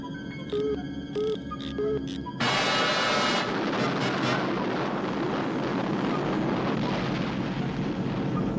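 Air Force One's engine boosters fire up to full power in a Spider-Man versus Doctor Doom battle scene, a sudden loud broadband roar that follows a short stretch of music-like tones and holds steady and powerful to the end.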